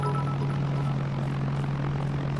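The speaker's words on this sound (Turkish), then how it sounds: "Oo millet uçak uçak." A propeller airplane flies overhead in the military video game Arma 3, a steady loud drone with a strong engine hum held for the whole short stretch, no talk.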